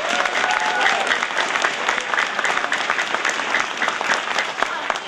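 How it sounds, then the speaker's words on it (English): An elementary school audience at a state fair evening performance bursts into sustained applause, dense clapping from many hands filling the room steadily for several seconds without a break. "Let's give them a nice round of applause."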